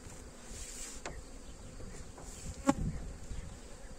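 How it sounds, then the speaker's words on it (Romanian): A honeybee swarm in a vineyard hums steadily close by, a continuous droning buzz with single bees passing near the microphone now and then. "Deci acesta este roiul din vie."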